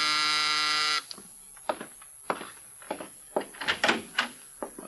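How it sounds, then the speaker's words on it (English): An apartment door buzzer in an old-time radio drama gives one loud, steady electric buzz lasting about a second, then cuts off, leaving quieter scattered sounds. "Now Mike is in his apartment when the door buzzer sounds."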